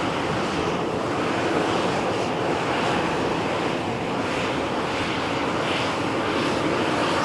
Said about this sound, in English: Ryanair flight is taxiing for departure